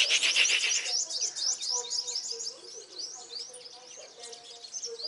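A wild-caught sunbird chirps and sings in rapid bright, high trills and tweets, close and fairly loud, with softer calls from other birds behind.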